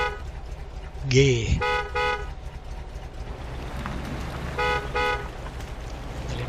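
Truck horn honks in MudRunner: a long blast, then a pair of short toots, and two more short honks later, loud over engine rumble while someone speaks briefly.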